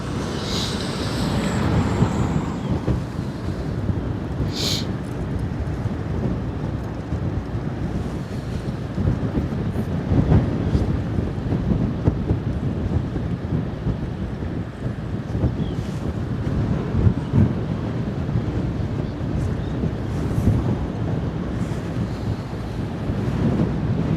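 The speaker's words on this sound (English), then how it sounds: "Oh god, the wind is blasting us again." Strong gusts batter an outdoor microphone beside the Westerschelde estuary in the Netherlands, a continuous loud roar and buffeting rumble with faint surf and ship traffic beneath, no talking.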